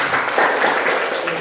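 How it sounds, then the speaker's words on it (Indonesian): Dense, steady applause from a classroom of students fills the moment, a loud continuous wash of many hands clapping together. "Nomor 1 kita kasih aplaus"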